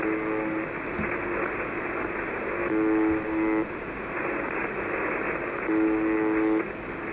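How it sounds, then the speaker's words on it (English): The Buzzer, a shortwave radio station, sounds through static: a steady hiss with a harsh, horn-like buzz that pulses in repeated bursts of about a second, loud against the noise floor. "it's a radio station, and all it does is just buzz 24/7."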